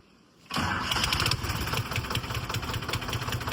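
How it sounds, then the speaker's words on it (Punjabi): A restored 1990 Ford 3610 tractor engine cranks and catches abruptly, then settles into a loud, rough, throbbing idle close by, with no voices over it. "ਫੋਰਡ ਜਿਹੜਾ ਟਰੈਕਟਰ ਆ ਨਾ ਤੇ ਆਪਣੀ ਜਿਹੜੀ ਆਵਾਜ਼ ਆ ਇਹਦੀ ਇੰਨੀ ਘੈਂਟ ਆਵਾਜ਼ ਆ"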